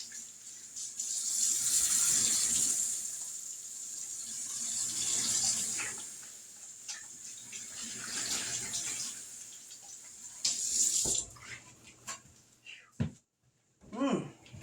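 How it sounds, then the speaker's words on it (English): Running tap water splashes steadily in a kitchen sink as hands are washed, a continuous broadband rush for about eleven seconds before it shuts off, followed by brief clatter and a short voiced exclamation. "let me wash my hands."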